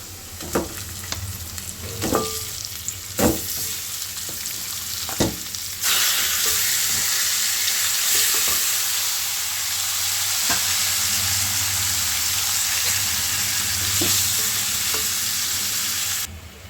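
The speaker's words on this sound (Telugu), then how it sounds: "ఇప్పుడు మనం ముందుగానే కడిగి పెట్టుకున్న చికెన్ని ఇందులోకి యాడ్ చేసుకోవాలి" Chicken sizzles in a pan with onions, first with intermittent stirring clicks and scrapes, then a loud steady frying hiss that runs on without talk.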